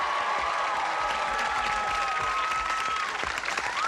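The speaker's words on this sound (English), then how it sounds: "That is worth a goodly round of applause." Studio audience applause on a 1984 television game show, a dense, steady wash of many hands clapping close and loud throughout, with a faint sustained tone running beneath it.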